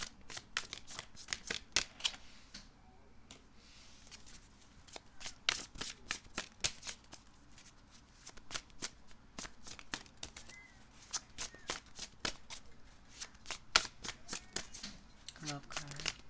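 Tarot cards are shuffled by hand in rapid bursts of crisp riffling and slapping, close and fairly quiet, with pauses between runs and no one talking.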